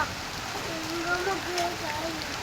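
Steady rain hisses evenly and fairly close throughout, with a person speaking softly over it.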